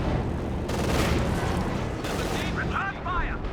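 Howitzer artillery fire in Company of Heroes 2, a steady wash of booming blasts and rumbling explosions across a 3v3 battle, loud and continuous with game effects layered on top.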